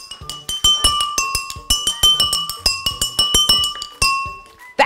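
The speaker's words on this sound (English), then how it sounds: "So we can make a little water xylophone." Water-filled drinking glasses struck in turn like a xylophone, about twenty bright, ringing clinks at different pitches in a quick melodic run, each with a short decaying tone, loud and close with no talk.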